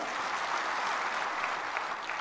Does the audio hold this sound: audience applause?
yes